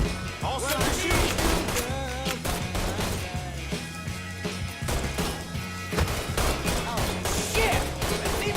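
Gunfire in the Mafia III video game: dense, loud bursts of shots and crashing impacts, rapid and repeated over a constant game score, with no talk.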